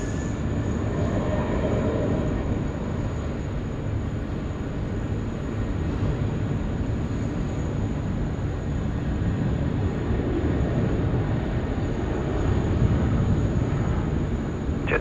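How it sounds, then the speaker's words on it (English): A steady, loud, broadband roar of a Boeing 717 airliner coming in to land on the left runway at Sydney Airport, sustained throughout with no talk. "717 now coming in on runway left."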